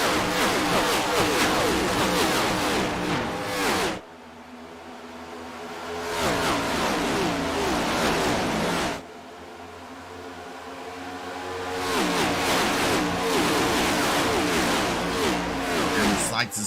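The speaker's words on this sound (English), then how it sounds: "Sights and sounds of these cars as they head into turn number 3." Stock cars in a Cup Series race roar loudly through turn three, with dense engine noise that drops away twice before the pack comes back around at full volume.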